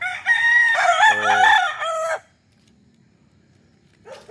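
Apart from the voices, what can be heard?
chickens and roosters crowing at chicken farm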